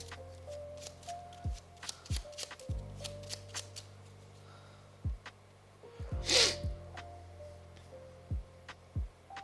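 A deck of cards for the Final Girl board game is shuffled by hand in a series of crisp riffles, slaps and taps. The sounds are close and quiet, with no talking.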